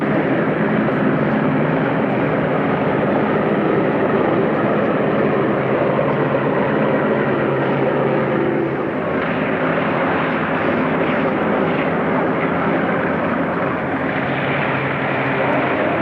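A military transport airplane taxis on a runway in a 1950 Berlin airlift setting, with a loud, steady propeller engine roar that drones continuously and close throughout, with faint radio-style talk beneath it.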